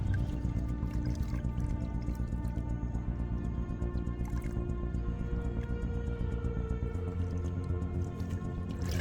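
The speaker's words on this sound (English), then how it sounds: "strain the mixture into 10 liters of clean water to extract the usable enzyme" Fermented plant mixture being strained into ten liters of clean water, a soft continuous wet trickle with scattered small drips and squishes, faint and close, no voices.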